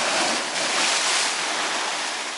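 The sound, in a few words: Black Sea waves washing over pier in winter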